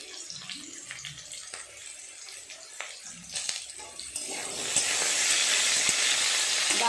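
Drumstick pieces and potato chunks fry in oil in a pan, giving a steady sizzle with small crackles and stirring sounds. The sizzle grows louder and fuller toward the end.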